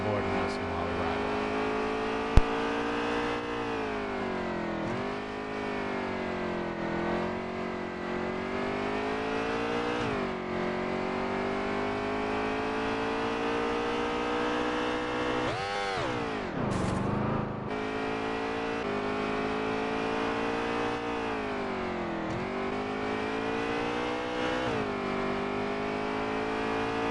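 Onboard race car engine of the race leader in a Bandit Grand National Series event at Road America, a loud continuous roar that climbs and drops through gear changes, with a brief lift around the middle before the revs build again.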